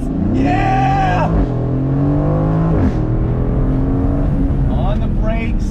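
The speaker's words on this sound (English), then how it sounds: "Launch control active and release." A 2021 Aston Martin Vantage Roadster launches hard under launch control, its engine revving up through rising sweeps with quick upshifts, loud and close, while a voice exclaims over it.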